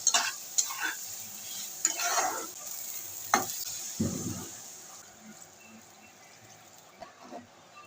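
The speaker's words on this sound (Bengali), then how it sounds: "এবার আমি আলুগুলোকে দিয়ে দিচ্ছি একসঙ্গে কষিয়ে নেবো আলু আর মশলা" Boiled potatoes stirred and fried with spices in a pan for a curry with lentil fritters, a faint low sizzle broken by repeated scraping stirs and a few utensil clacks, fading quieter toward the end.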